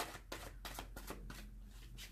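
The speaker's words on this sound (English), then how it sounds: "And we're just going to do a quick shuffle." An oracle card deck, Romance Angels Oracle, being quickly shuffled by hand, giving a run of soft riffling bursts close by with no talking.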